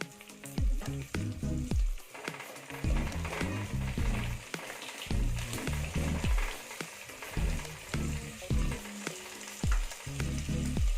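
Onions and five or six green chillies sauté in a clay pot for chicken biryani, a steady loud sizzle and frying hiss broken by repeated rhythmic stirring scrapes, heard alone without talk.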